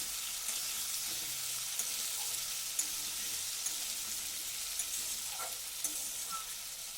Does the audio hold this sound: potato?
yes